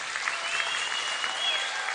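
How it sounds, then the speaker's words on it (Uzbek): Audience applause for Shohruch at a gathering, a short, even burst of clapping from a crowd, moderately faint and sustained without a break. "Shohruchonga chiroyli bir qarsak bo'lsin endi"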